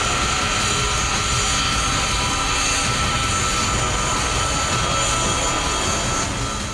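Powerful jet engines of US Air Force military aircraft roar in a steady, loud, continuous wash of broadband noise, with no voices.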